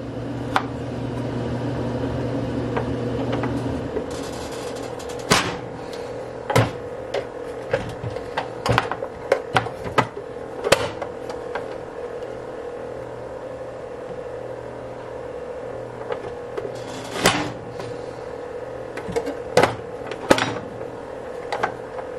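A knife chops a tomato on a cutting board in a kitchen, irregular sharp taps of varying loudness after a steady background hum stops, with no talk.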